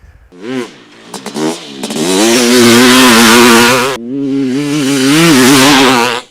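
A 500cc two-stroke dirt bike engine revs loudly and close, climbing through two long, sustained throttle pulls with a brief dip between them. No voices are heard.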